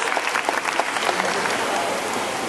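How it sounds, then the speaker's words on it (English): An audience at a bird show in Singapore Bird Park breaks into steady applause, a dense wash of many hands clapping that holds evenly throughout, with some voices mixed in. "How about a loud round of applause for her?"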